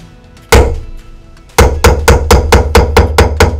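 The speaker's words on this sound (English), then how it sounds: "I'm hitting my stamp harder when I am tilting on the side to where the sprig has more" A hammer strikes a metal hand stamp, one hard blow followed after a pause by a rapid, steady run of about a dozen loud, close, sharp taps with no talking.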